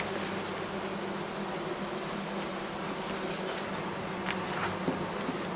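Honey bees buzz steadily in and around an old hive that was once among the most populous. The dense, even drone is loud and close, with an occasional individual bee passing nearer.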